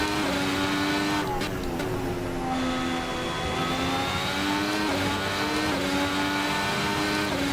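Ferrari SF71H Formula 1 car in Assetto Corsa, its engine screaming steadily at racing speed, loud and close, with pitch rising and dipping slightly through gear changes.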